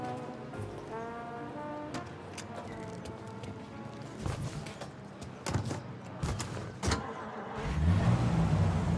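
A car driving in Mafia Definitive Edition, a steady engine hum with a honk-like tone and bumps, rising to a deeper rumble near the end, under speech.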